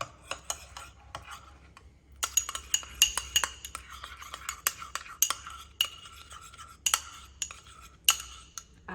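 Spoon stirring mustard and garlic paste in a bowl, a string of light clinks and scrapes in an irregular rhythm, close and fairly quiet.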